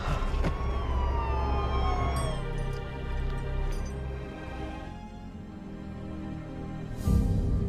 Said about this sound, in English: He quickly stumbled out of there as police cars rushed to the scene.